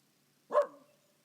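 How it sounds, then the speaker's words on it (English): A single short dog bark, close and fairly soft, with a brief tonal tail fading out in an otherwise quiet room. "What's all that barking about?"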